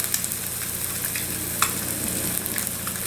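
Ribeye steak and eggs fry on a flat-top griddle with a loud, dense, continuous sizzle and scattered crackling pops, close up and with no talking.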